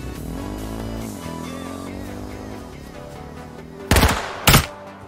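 Two sharp, loud bursts of gunfire in the video game H1Z1 on PS4 ring out near the end, following a stretch of tonal game sound effects and music.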